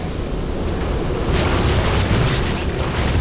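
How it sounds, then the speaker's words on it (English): Gas released onto infested Terrans in the StarCraft 2 video game comes through as a loud, steady, broad rushing roar that swells slightly midway and holds for a few seconds with no voices. "Release the gas."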